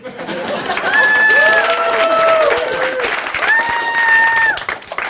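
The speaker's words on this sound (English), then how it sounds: "I think I deserve a bit more applause." Crowd at the Gotham Comedy Club applauds for a comedian taking the stage. Close, dense clapping runs throughout, with loud whoops and drawn-out cheering shouts rising over it.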